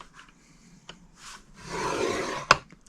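Cardstock being scored on a scoring board: a few soft rubs, then a quiet drawn-out scrape lasting under a second, ending in a sharp click close by.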